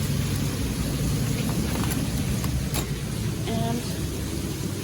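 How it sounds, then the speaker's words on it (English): Steady rain falls at night outside a DoubleTree by Hilton resort near SeaWorld in Orlando, a dense, continuous hiss of drops on surfaces that stays even and fairly loud for the whole stretch, with a faint rumble underneath. "It's raining, it's nighttime"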